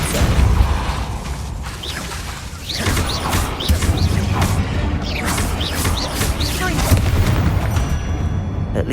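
A Depulso force spell cast in the video game Hogwarts Legacy, heard among loud booming spell blasts and whooshes over a dense game soundscape.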